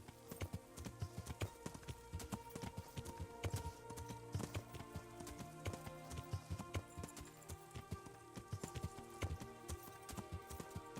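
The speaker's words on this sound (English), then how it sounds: "my horse fails to jump over this very short fence" Horse hooves clip-clopping in a video game, a quick steady rhythm of crisp clicks at a walking pace, fairly quiet and unbroken, with no talk.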